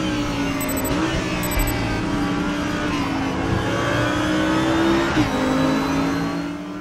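A 5.2-litre Audi R8 LMS GT4 engine in Raceroom drones loudly and continuously under acceleration, pitch climbing steadily with two abrupt drops at gear shifts.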